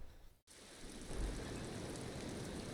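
Steady, dense rain ambience from the video game Disco Elysium, a continuous wash of rainfall that swells slightly after a brief dropout near the start, with no talking.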